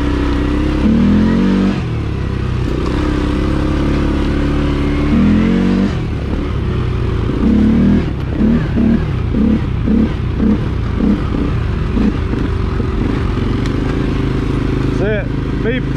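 A CFMOTO CForce 400 ATV fitted with a clutch kit runs its engine loud and near, the motor droning low with rising rev pulses, over steady speech.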